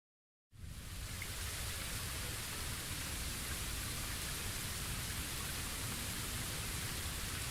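Steady rain from the video game Bleach: Rebirth of Souls begins abruptly after a brief silence, then holds as a dense, even, broadband downpour hiss with a low rumble, continuous and fairly loud with no voices over it.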